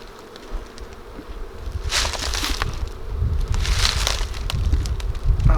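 Honey bees buzz around an open hive, a steady insect hum broken by louder bursts of close crackling and handling noise as the hive is worked.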